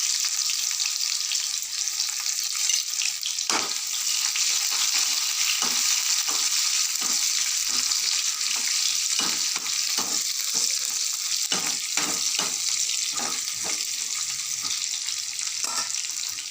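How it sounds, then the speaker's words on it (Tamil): Onion and potato sautéing in oil in a pan for a wheat-flour potato roll snack, a steady loud sizzle throughout with occasional soft scrapes and stirring taps, no talking. "ஒரு அரை வெங்காயம் வந்து வதக்கப்படும்."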